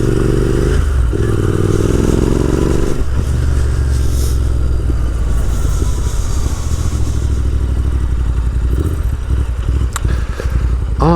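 Riding a Royal Enfield Interceptor 650 motorcycle on a road trip to Poznań, with a loud, continuous engine drone and heavy wind rush throughout, the exhaust note rising briefly as it revs, plus a few faint clatters.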